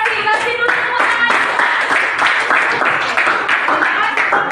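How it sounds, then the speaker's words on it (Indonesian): A classroom group claps their hands in rhythmic, distinct claps, close and fairly loud, with faint voices mixed in. "Kasih dulu tepuk tangan."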